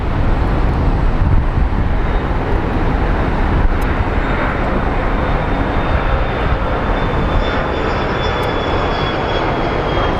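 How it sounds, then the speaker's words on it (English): Jet airliner taking off at Phoenix Sky Harbor airport, heard as a loud, steady, broad engine roar that fills the whole stretch without a break, with no voices over it. "Just watching these planes take off is like, this is freaking crazy."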